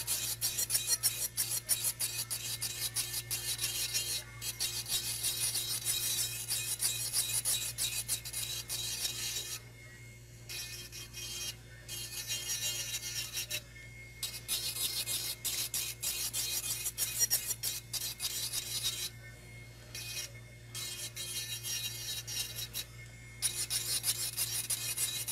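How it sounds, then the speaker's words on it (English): A file rasps back and forth over a long artificial nail as it is shaped and bevelled, close and steady strokes broken by a few brief pauses, with no talk. "I'm going in one direction to really blend out and bevel out the shape of the nail"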